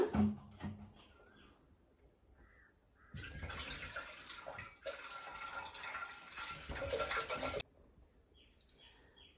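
Water pours steadily into a cooking pot for about four seconds with a bright rushing hiss, framed by quieter clinks and handling noises before and after, for boiling noodles.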